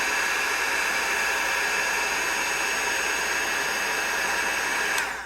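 A heat gun blows a steady, loud hissing roar while melting embossing powder on small pumpkins, running evenly and alone before switching off at the end.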